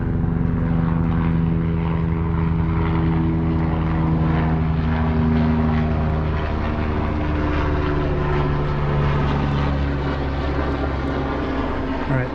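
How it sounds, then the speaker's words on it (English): Loud, steady engine drone with a throbbing rotor pulse fills the whole stretch as an aircraft passes close overhead, no talking. "The helicopter decided to come over right now."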